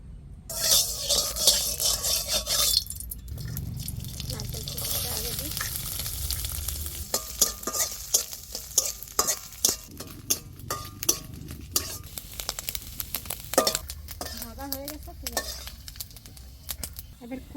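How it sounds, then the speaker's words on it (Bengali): Coconut pieces fry in a little oil in a wok, giving a steady crackling sizzle, loudest at the start, with scraping stirs and metallic utensil knocks against the pan through the rest. "প্রথমে নারকেলগুলো একটু ভেজে নেব সামান্য একটু তেল দিয়ে দিই কড়াইতে"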